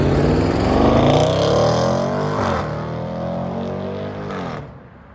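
A Range Rover SVR with quad exhaust tips revs, the engine note rising and falling through a couple of loud pulls before cutting off sharply near the end.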